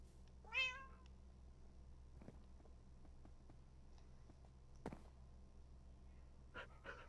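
A cat meows once, a bright rising-falling call near the start, followed by quiet room ambience with a few soft knocks and rustles.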